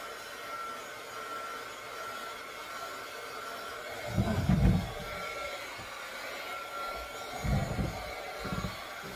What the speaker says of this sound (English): Okay. I got my heat gun here.